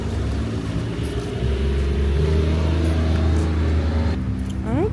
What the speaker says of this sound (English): ATVs in the Dominican Republic